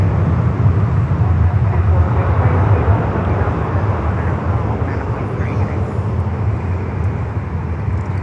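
An American Airlines airliner from Philadelphia at Fort Lauderdale airport gives a steady, loud low-pitched jet rumble that fades slightly toward the end.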